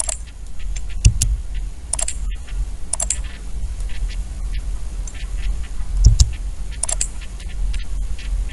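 Computer keyboard typing while drafting in AutoCAD, scattered key taps with a few sharper Enter presses standing out, close and alone over a low steady room hum.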